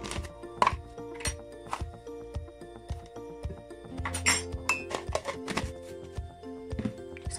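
A utensil clinks and taps repeatedly against a bowl while flour, baking soda and sugar are stirred, close and fairly quiet, with occasional duller knocks.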